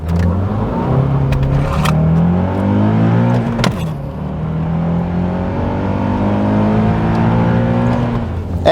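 A Honda Accord CL9 with its stock intake revs repeatedly, the engine note rising and falling through several loud, close blips with no talk.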